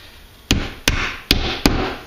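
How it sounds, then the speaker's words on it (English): Hammer driving nails into wooden planks on an old-style bridge build, four sharp, evenly spaced blows ringing out close and loud with no talking. "Go ahead and start nailing them in place."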